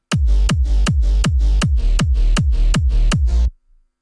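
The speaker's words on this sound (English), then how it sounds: "Then there's this mid bass" Synthesized mid bass for a hardstyle track, pulsing in about eight even, loud hits with a deep low thump and bright, buzzy upper layers on each note, ending cleanly.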